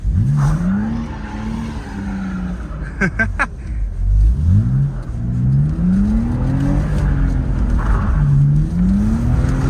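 A BMW Z4 E85 with its N52B30 straight-six revs hard while drifting on winter tires, the engine rising and falling in repeated swells with a burst of rattling clicks midway, heard from inside the car.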